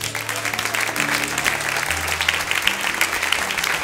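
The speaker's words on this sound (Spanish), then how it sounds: "Denle un aplauso." A church congregation applauds, a dense steady patter of clapping hands lasting several seconds, with sustained music tones underneath.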